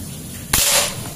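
An air rifle, a Predator Monel Ataman folding 4000 psi gun, fires once at a metal silhouette target, a single sharp crack with a bright ringing tail, close and loud with nothing else around it.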